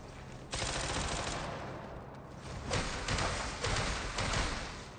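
Rapid automatic gunfire from a gunner enemy in AI Limit arrives in several loud bursts separated by short lulls, with no voices over it.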